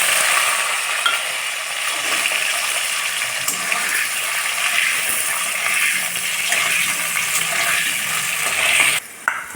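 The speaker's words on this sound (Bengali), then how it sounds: "এবার সেদ্ধ করে রাখা আলুগুলোকে ভেজে নিব।" Boiled potatoes frying in hot oil in a pan, giving a loud, continuous close sizzle with occasional stirring scrapes, ending in a brief dip near the end.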